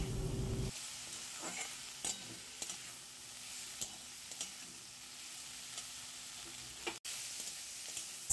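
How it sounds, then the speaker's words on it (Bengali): Chopped capsicum frying in a pan for a chickpea lentil dish, a soft steady sizzle with scattered light stirring scrapes and clinks, after a brief louder burst at the start. "এবার এর মধ্যে দিয়ে দেওয়া হলো ক্যাপসিকাম কুচি"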